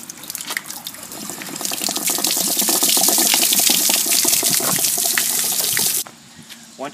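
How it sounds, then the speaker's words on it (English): Water draining from an RV trailer's water heater tank with the plug removed and the pressure-temperature valve open, a loud, steady rushing splash that runs for several seconds close by and then stops suddenly. "Once we remove the plug, we're going to open up the PT valve so it'll drain faster."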